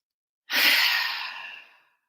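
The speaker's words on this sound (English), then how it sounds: "inhale through the nose, exhale audibly" One long audible exhale during deep meditative breathing, a soft close breathy rush that starts abruptly and fades out over about a second and a half, alone in silence.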